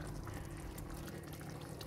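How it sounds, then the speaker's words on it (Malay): Hot water is poured into a pot of sardine asam pedas. It makes a faint, continuous splashing rush with a bubbly, hissing texture that stays even for the whole short stretch and carries no talk. "Kemudian tambahkan air panas secukupnya."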